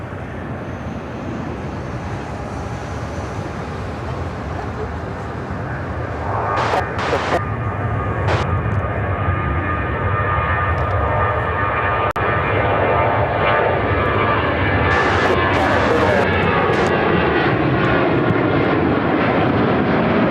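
A Boeing 737-800 taking off from Chicago O'Hare for Bozeman, a sustained loud jet roar that swells as the aircraft climbs, with a few short sharp sounds scattered through it.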